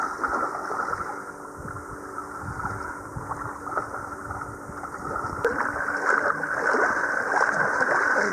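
Water splashes and churns at a beach as people wade in, the underwater camera catching gusty wind and a steady wash of sloshing that grows busier toward the end.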